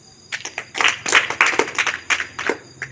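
Applause for a DPRD regency council candidate at a political gathering: a small crowd claps in scattered, uneven bursts that are fairly close and moderately loud, then tapers off.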